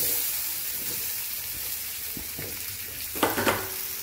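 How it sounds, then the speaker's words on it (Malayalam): Onions shallow-fry in vegetable oil in a pan with a steady, close sizzle and hiss, broken near the end by a few clattering stirs against the pan. "അപ്പം നമുക്കിതൊന്ന് ചെറുതായിട്ടൊന്ന് ഷാലോ ഫ്രൈ ചെയ്തെടുക്കണം."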